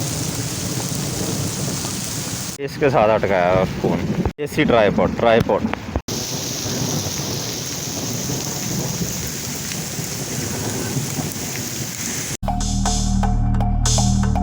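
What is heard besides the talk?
rain and thunderstorm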